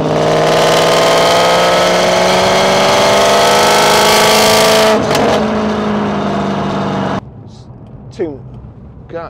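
A 2006 Maserati Quattroporte 4.2 with a six-speed sequential gearbox drives in sport mode, its engine droning steadily and loudly from the cabin with a shifting pitch, then dropping abruptly to a quiet interior with faint knocks.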